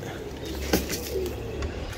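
Pigeons coo softly while pecking at millet grain, a few low calls over a faint background hum, with no talking.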